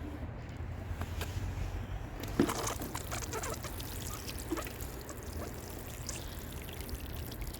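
Water pours and trickles into planters holding newly planted trees outdoors, a steady soft splashing stream with a few louder gushes, heard alone without talk.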